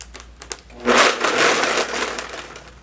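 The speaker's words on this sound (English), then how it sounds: "we're going to try and cut this so you don't have to listen to the whole blender." A countertop blender whirs loudly, mixing a chocolate cherry protein smoothie; steady, dense grinding roar follows a few light clicks and knocks and continues to the end, close and alone.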